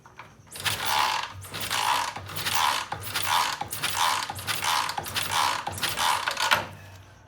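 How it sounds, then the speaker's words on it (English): A Triumph T140V motorcycle's kickstarter is worked repeatedly, giving about eight regular, loud mechanical ratcheting strokes close by, with no engine catching between them. "The ignition is on, and kicking the bike over"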